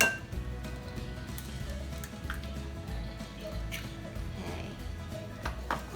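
Banana bread batter is stirred in a bowl to work out buttery lumps, with steady soft scraping and thudding of the spoon and occasional light clinks against the bowl, close by.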